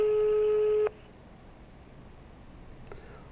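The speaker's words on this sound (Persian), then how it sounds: "داره تلفن زنگ میزنه اما ایشون جواب نمیده" A telephone call rings out unanswered on the caller's end: one steady electronic tone lasts just under a second, then cuts off to near silence.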